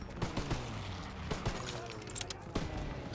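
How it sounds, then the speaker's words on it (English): Bursts of World War II machine gun and rifle fire crackle in a Call of Duty WWII battle, sharp repeated shots spread across the moment over a dense background din. "Isn't there a machine gun up here?"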